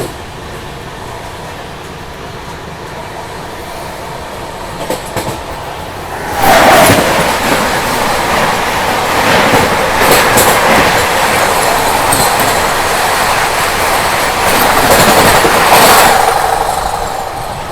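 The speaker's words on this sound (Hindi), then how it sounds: "अभी सामने से आ रही है सिकंदराबाद दानापुर सुपरफास्ट।" The Secunderabad–Danapur Superfast passes at close range: a quiet rumble swells abruptly into a loud, sustained roar of wheels with rhythmic clatter and squeal, surging again before easing off.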